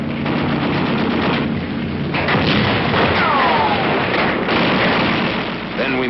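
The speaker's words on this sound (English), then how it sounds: "And whoever runs gets cut down with small arms fire." Small arms fire in the Korean War, dense crackling gunfire mixed with booms in a dated, band-limited battle recording, loud and continuous with voices heard amid the noise.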